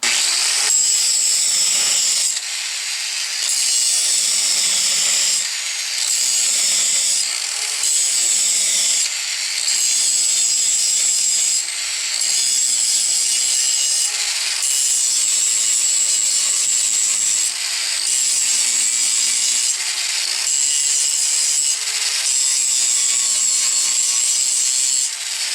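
An angle grinder bites into a steel lower control arm in repeated passes, a loud harsh high-pitched grinding that pauses briefly and restarts every couple of seconds for the whole stretch, with no talking.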